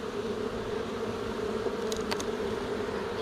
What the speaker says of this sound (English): the bees keep stinging me